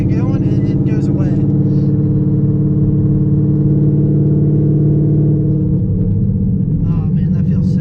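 A cammed Coyote V8 in a Ford Mustang idling with a loud, heavily loping, choppy rhythm, a deep pulsing rumble that runs throughout, with someone talking over the start and end.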